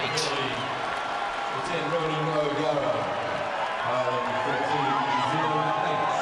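Irish rugby supporters in the stadium crowd at an All Blacks versus Ireland match in Hamilton, 2006, produce a continuous roar of cheering and whooping, while a commentator talks over the crowd noise.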